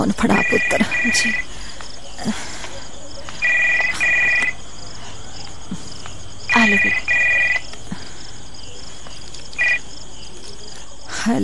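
A telephone rings in repeated short bursts of electronic trilling, four separated rings across the stretch, with a steady background of insect-like chirping between them.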